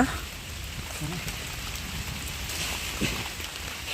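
Rain falls steadily in a dense forest near a tribal village while a jackfruit is picked from a tree: a constant broad wash of drops on leaves with a few thuds, and people talking faintly underneath.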